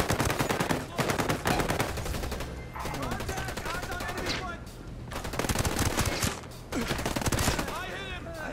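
Rapid automatic gunfire from a gun in Ghost Recon Breakpoint, loud close bursts of shots in quick rhythm with short pauses between volleys, under excited voices.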